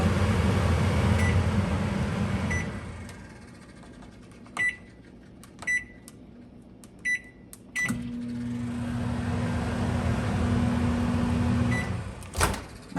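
A microwave oven hums steadily, with a few sharp clicks and beeps, then its running drone resumes at a lower pitch.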